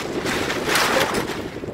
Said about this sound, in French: comme par hasard, il y a le vent qui fait.